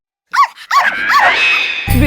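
Tommy the dog gives three sharp, close barks in quick succession, trailed by a lingering high ring and a dull thump at the end.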